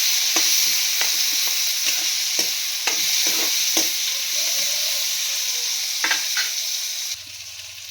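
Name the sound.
cumin and curry leaves frying for upma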